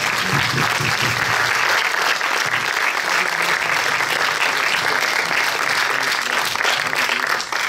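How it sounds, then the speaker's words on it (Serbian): An audience at a documentary film festival Q&A claps for the film crew in a dense, sustained round of applause that stays loud and even from start to finish, with no voices standing out. "Ako možeš jedan aplauzić za njih, baš hvala"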